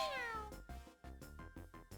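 Cat Peach's short meow on character selection in Mario Kart 8, a single bright falling mew at the start, followed by a quick run of rhythmic game menu music and effects.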